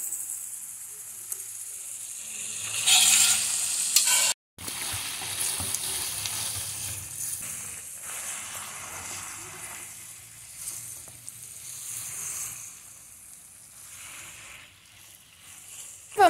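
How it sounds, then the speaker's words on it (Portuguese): Pasta tossed in a frying pan with a creamy mushroom sauce: a continuous close sizzle with bubbling and soft scraping of the stirring utensil, louder at first and then settling, no voices. "Agora vamos colocar o macarrão na frigideira com o nosso molho."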